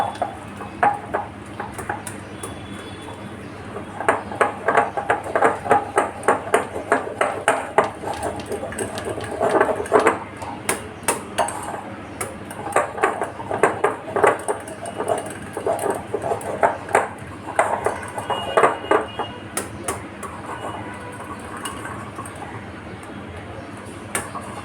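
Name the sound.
mixing cake batter with orange colour and orange zest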